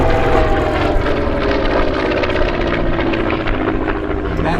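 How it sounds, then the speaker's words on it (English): A World War II F6F Hellcat warbird roars past at the Yuma airshow, its piston engine and propeller producing a loud, sustained, rumbling drone that holds steady with a slight fade. "That's the F6F Hellcat."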